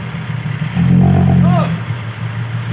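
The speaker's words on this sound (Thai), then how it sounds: "รถไถก็ เป็นรถไถของ ปะตุงนะ" Engine of Aunt Tung's farm tractor running with a steady low rumble that swells slightly in the middle, mixed with brief background voices.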